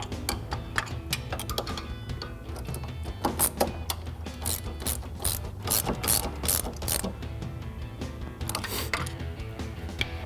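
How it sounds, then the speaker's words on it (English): A 19mm ratcheting wrench tightens a strut nut on a 2015-2025 Ford Mustang, giving close, crisp runs of ratchet clicks in uneven bursts over a low mechanical background. "And our 19 millimeter ratcheting wrench to tighten it down."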